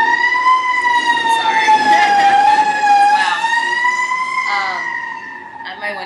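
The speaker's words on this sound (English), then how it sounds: "Can you hear that? Yeah. The sirens? Sounds intense." A wailing siren rises and falls steadily, loud and sustained, with people talking faintly underneath.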